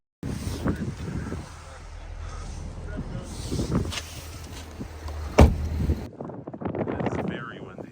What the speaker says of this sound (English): It's very windy, so I might just do voiceover on this one.